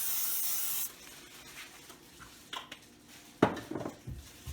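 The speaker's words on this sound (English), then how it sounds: "So I'm gonna spray this because I don't want it to stick." A short hiss of cooking spray coats a pan for a keto dinner, followed by quiet clinks and scrapes of cookware and utensils in a home kitchen.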